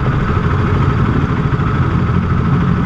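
A motorcycle engine idles at a red light, a steady low, throbbing rumble with a faint mechanical clatter, close and constant with no talking.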